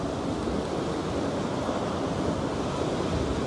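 Ocean waves around a sailing boat at sea, heard from the deck: a continuous, even wash of surf and rushing water with some wind, moderately loud and unbroken, with no voices.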